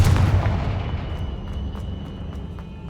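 Confringo blasting spell cast in Hogwarts Legacy, a single loud booming blast that rolls off into a long decaying rumble, heard alone.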